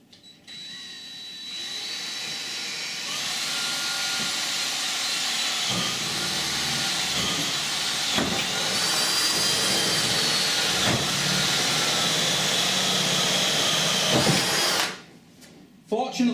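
A power drill fitted with a 9mm bit bores steadily through a uPVC door, a loud continuous whine and hiss lasting about twelve seconds before stopping abruptly.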